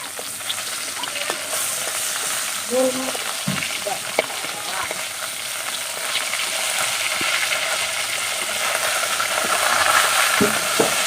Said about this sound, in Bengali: আমার মাছগুলো ভাজা হয়ে গেছে